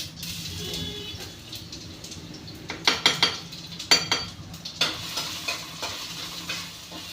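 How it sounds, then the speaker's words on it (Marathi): Mustard seeds, cumin and garlic frying in hot oil in a pan, giving a steady sizzle with a run of sharp clinks and scrapes from stirring in the middle, close and fairly loud. "थोडीशी मोहरी घातली, थोडंसं जिरं आणि थोडासा लसूण घेतला"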